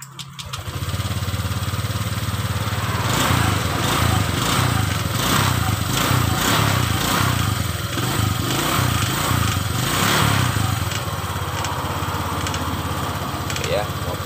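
A Honda Vario 125 scooter, just repaired after a faulty CKP sensor, runs steadily after being restarted, its engine sound loud and continuous for the whole stretch with a brief start at the beginning.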